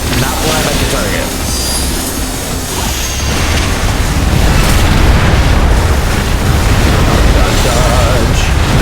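Fire Spin attack roaring in Pokémon Legends Z-A, a loud, continuous rumbling blaze of booming, crackling fire with low bursts, filling the whole stretch without pause.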